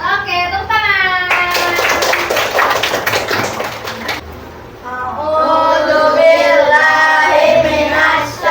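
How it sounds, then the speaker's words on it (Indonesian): Children in a classroom clap their hands in a rhythmic pattern, a run of sharp, quick claps following a child's sung recitation, with young voices singing before and after. "Oke, tepuk tangan."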